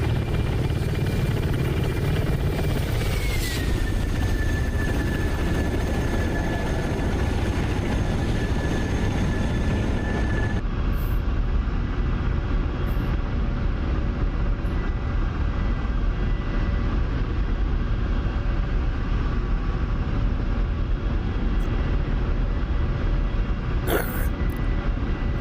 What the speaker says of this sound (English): Let's try and get another little flyby view of her. She is a good looking helicopter.